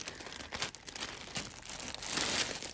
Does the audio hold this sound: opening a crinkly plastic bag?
yes